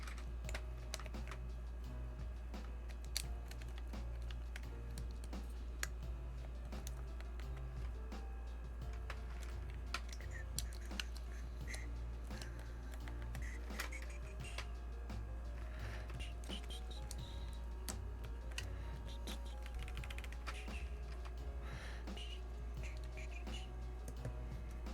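Typing on a Tess65 mechanical keyboard fitted with Kikobo keycaps, with a steady run of close, crisp key clicks and clacks and a low hum underneath.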